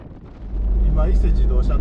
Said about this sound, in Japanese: 今伊勢自動車道を走ってるんですけど風がねすごいんですよね。